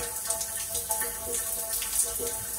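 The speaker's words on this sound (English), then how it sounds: "Dude, if these showers are working right now, I'm gonna be so unbelievably hype." Warm water sprays steadily from a campground shower, a continuous close splashing rush with small irregular surges.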